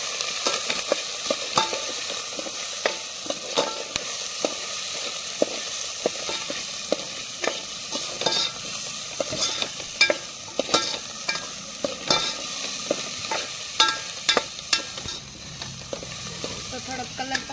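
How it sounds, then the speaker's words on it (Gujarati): Turmeric stirred into aloo paratha potato filling sizzling in a pan, a steady frying hiss with repeated scraping clicks of the spoon through the mixture, close and continuous with no talk. "હવે આને થોડુંક હલાવી નાખીશું."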